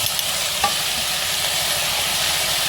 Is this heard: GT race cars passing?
no